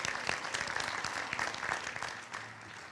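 A commencement audience gives a round of applause for the sign language interpreter, Carrie Downey, with brisk, even clapping that is moderately faint and continuous across the room.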